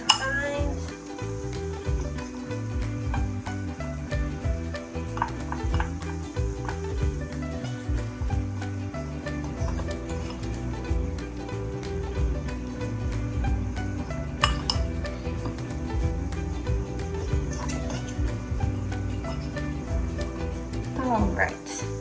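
Cinnamon roll mixture stirred in a bowl, a continuous close scraping and clinking of utensil against the bowl with steady rhythmic strokes, under a person talking throughout.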